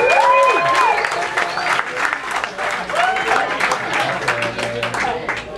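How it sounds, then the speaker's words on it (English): A comedy club audience breaks into applause and scattered cheers after the comedian's prompt, a dense crowd clapping that fills the room throughout, with the comedian's voice and crowd voices over it. "Put your hands together if you got money in your pocket on a Friday night."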